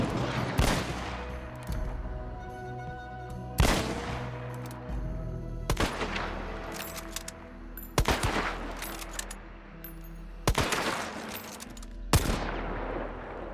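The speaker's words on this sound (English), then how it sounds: "every single gun has a subtle but different sound when fired." Gunshots ring out in the video game Hunt Showdown as a series of six loud, sharply separated blasts at roughly two-second intervals, each trailing off into a long echoing decay, with no voices.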